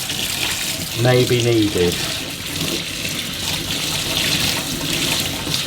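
Water running steadily from a tap and flushed through a Gtech AirRam vacuum part while it is rinsed, a continuous splashing hiss under a brief spoken remark.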